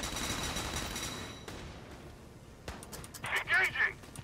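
Gunfire in Valkyria Chronicles 4 battle, a few sharp shots and bursts heard near, with other game sounds and speech around them.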